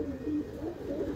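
A pigeon among prized breeder and high-flyer birds coos softly, a low, rolling burble heard up close and alone, repeating in two or three gentle pulses over a second.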